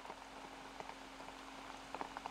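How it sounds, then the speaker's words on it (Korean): Steady monsoon rain falls on Jirisan mountain in mid-July, a faint, even hiss of drops pattering on leaves and ground with no voices. "7월 중순 지리산에 장맛비가 내리고 있다."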